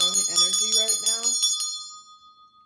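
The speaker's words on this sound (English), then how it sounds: "I'm going to ring the bell because I'm picking up some really strong energy right now" A small handheld bell is shaken in a quick, bright jingling run of about ten strikes, then rings out and fades to silence, close and loud.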